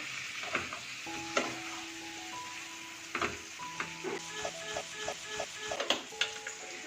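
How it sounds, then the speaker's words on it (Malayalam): Chicken sizzles in a hot pan over a medium-to-high flame, with repeated spatula stirs and clinks against the metal, quiet and nearby, plus some faint tonal beeps in the background. "മീഡിയം ടു ഹൈ ഫ്ലെയിമിൽ വെച്ചിട്ട് വേണം ഇതൊന്ന് ഫ്രൈ ആക്കി എടുക്കാൻ"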